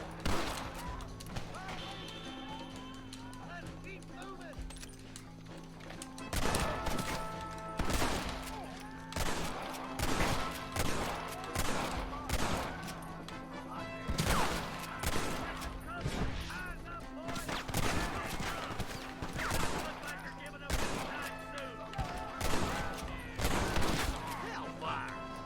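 A shootout in the video game Red Dead Redemption, with repeated bursts of rapid gunfire in close succession over a background music tone, and a voice talking intermittently.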